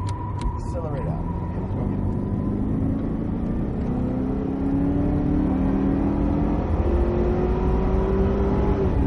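A Cadillac CTS-V Coupe accelerating on the Circuit of the Americas race track, its engine droning loud and close with rising pitch through the gears, under continuous talk.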